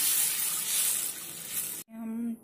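Water being poured into a pan to start a sugar syrup, a steady splashing rush for nearly two seconds that stops abruptly, followed by a brief tonal ring.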